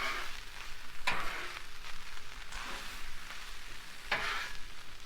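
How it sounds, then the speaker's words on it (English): Rice fries in bacon grease on a Blackstone griddle, a continuous crackling sizzle close by with spatula scrapes at intervals. "you're going to basically just fry your rice is what you're doing"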